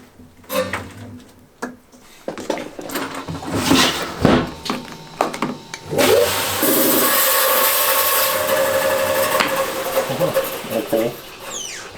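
Rock saw cutting into a Mexican El Sueco agate nodule, with scraping and handling noises first, then a loud, steady grinding whine that holds for several seconds before tapering off.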